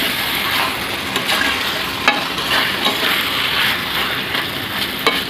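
Spicy free-range country chicken sautéed in a pan: a dense, continuous sizzle with periodic spoon scrapes and small clicks against the pan, close and steady, no talking.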